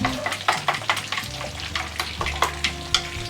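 Bitter gourd (goya) cooking in generous oil over medium heat: a bright sizzle broken by quick, regular scraping stirs of a utensil in the pan, close and busy, with no speech.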